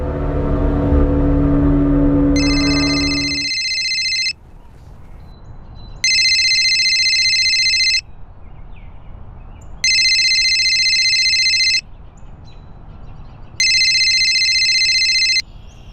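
A telephone rings in loud, evenly spaced electronic bursts, four repeated rings with short silent gaps between them, following some earlier background noise.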